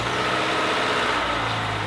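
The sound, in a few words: car engine starting and idling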